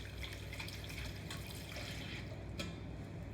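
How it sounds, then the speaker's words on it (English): Water runs steadily from a kitchen tap as hands are washed and rinsed, a constant close hiss and splash with faint drips throughout. "Give my hands a good wash,"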